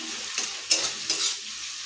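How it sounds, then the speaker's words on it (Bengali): Fried potatoes and fried eggs being stirred in a hot pan, with steady sizzling frying and a few sharper scraping strokes of the spatula close by, no talk. "ডিম ভাজা আলু ভাজাটা এর মধ্যে দিয়ে একটু নাড়বো"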